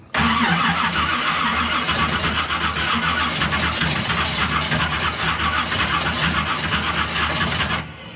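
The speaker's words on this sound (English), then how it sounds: "So we'll hit the starter here real quick." A car engine fitted with an MSD Atomic ignition system cranks steadily on the starter for about eight seconds and never fires, a loud, continuous, rhythmic grinding with no voices over it.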